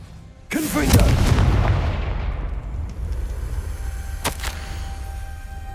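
A Confringo fire-blasting spell goes off in Hogwarts Legacy as one sudden loud boom, followed by a long rumbling decay and a sharper crack a few seconds later.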